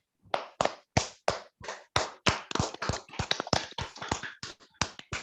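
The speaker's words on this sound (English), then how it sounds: "Let us give all our guests a good round of applause" A small group at a Toastmasters club meeting in Bangalore, held online, claps for guests, giving sparse, distinct individual claps in a loose, uneven rhythm, close and moderately loud.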